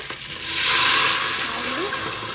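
Thick coconut milk poured into a pan of spluttering tempering, a broad rushing hiss swelling after a quiet start and holding steady, close and fairly loud, with no talk.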